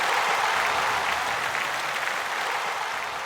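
An audience at a stage event gives steady, dense applause, a continuous wash of many hands clapping at an even level throughout.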